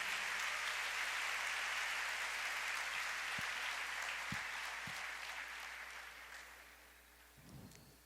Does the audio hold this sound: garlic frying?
no